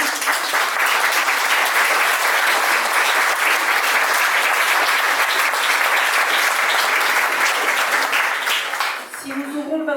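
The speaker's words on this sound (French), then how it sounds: "vous pouvez applaudir Fabrice Boutet" An audience at a public meeting about a ski resort applauds for a person being thanked, with dense, sustained clapping that fills the room and tails off at the end.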